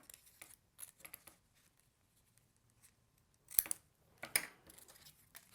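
Scissors cutting a paper piece for a pop-up card stage set give soft, close snips and rustles. The sounds are scattered and faint at first, then come as two sharper clips near the end.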